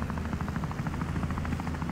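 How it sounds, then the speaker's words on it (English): A helicopter in the video game Wobbly Life gives off a steady, rhythmic rotor chop over a low engine hum, moderately loud and unbroken, with no talk over it. "look at that helicopter"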